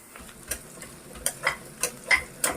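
Onions frying in a pan for chicken biryani while being stirred, giving a faint low sizzle broken by a run of sharp, irregular spatula scrapes and clicks, with no talking.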